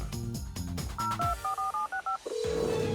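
Telephone dialing tones in the SpongeBob series Bikini Bottom Inquirer: a quick run of about seven short, evenly spaced keypad beeps after some muffled clunks, then a single longer steady tone at the end.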